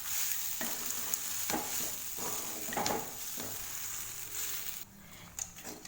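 Cooked rice stirred with salt and sautéed onions in a hot pan for garlic rice, steady sizzling under repeated scraping strokes of a spoon against the pan, close and clear with no talking.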